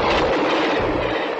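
Rumbling roar of a passing train in a 1973 SNCF railway advertisement, loud and continuous with a broad wash of noise and low rumble throughout, no voices.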